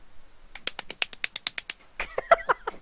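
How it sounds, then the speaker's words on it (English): A run of quick hand claps, a dozen or so in steady succession, followed by a denser burst of several people clapping, close and lively. "Thank you for the applause."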